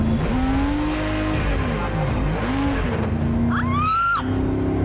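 Koenigsegg Regera hypercar accelerating at full throttle down a runway, a loud continuous engine roar with rising and falling pitch through gear changes, joined near the end by a sharp squeal.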